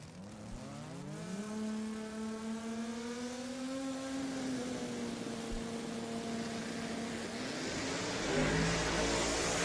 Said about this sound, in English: Tire spin for Eric.